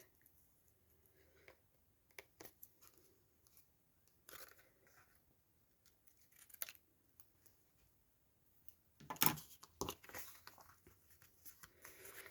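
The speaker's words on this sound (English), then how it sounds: "So cut the tag shape." Scissors cutting a tag shape out of paper for a craft project, quiet scattered snips and crisp clicks with longer pauses between them and a louder burst of cutting near the end.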